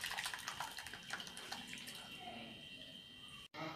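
Carrot and beetroot juice pours steadily through a strainer, giving a continuous liquid trickle and splash close by that runs for several seconds with no talking.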